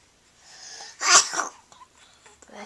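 A baby lying on a play gym sneezes once, close and clear: a short breathy intake rises into a single sharp sneeze, followed by soft breathing and small rustles.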